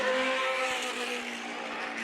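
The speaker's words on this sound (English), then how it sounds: "So these cars are on their final lap." Formula race cars on their final lap at a vintage reunion race, engines roaring past briefly and fading, with a sustained high whine and no talk.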